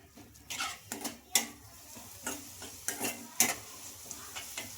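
Flattened rice simmering in jaggery syrup is stirred in a pan, giving a quiet bubbling sizzle broken by regular scraping and tapping strokes of the spoon against the metal.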